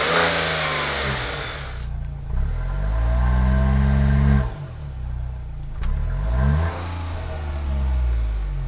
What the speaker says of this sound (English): this engine sounds a bit more like a V6 than a four-cylinder engine